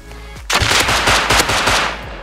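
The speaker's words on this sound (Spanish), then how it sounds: "Me disparan, Claw." A loud burst of rapid automatic gunfire in a Rust vanilla match, close and sharp, rattling in a fast steady stream for about two seconds.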